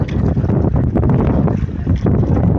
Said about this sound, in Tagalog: Grabe ang lakas ng hangin idol oh.